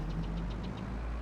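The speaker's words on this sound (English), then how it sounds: "320 odd horsepower tractor, I think it was" A 320 horsepower tractor engine in the Farming Simulator 22 game hums in a steady low idle with a faint rhythmic knock, continuous and close, with no talking.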